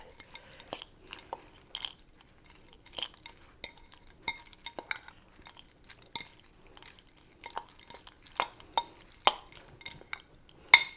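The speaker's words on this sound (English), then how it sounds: "I'll cut a little bit closer and stir everything up" A spoon clinks and scrapes irregularly against a bowl while stirring oatmeal with chocolate chips, with close, sharp taps and scrapes over near silence and no talking.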